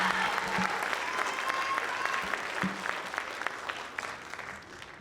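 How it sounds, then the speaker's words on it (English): An audience claps at a school district convocation, a dense wash of applause that starts full and gradually thins and fades, with faint voices underneath. "So let's give a round of applause"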